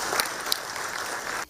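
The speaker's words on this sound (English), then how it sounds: "Nigerian MSMEs deserve a round of applause for that." Audience applause after remarks about Nigerian small businesses, a steady burst of clapping from a crowd that cuts off abruptly after about a second and a half.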